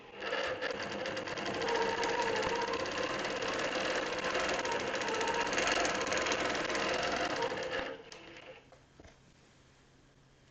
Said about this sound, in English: just do a couple of test stitches just to make sure everything is good